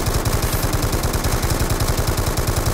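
Rapid automatic gunfire from a weapon shooting zombies in Call of Duty Zombies on the Origins map, a loud, continuous burst of evenly spaced shots running through the whole clip.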